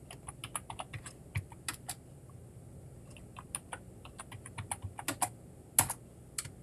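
Someone types quickly and unevenly on a computer keyboard close by, with clear individual keystrokes and short pauses and no voices.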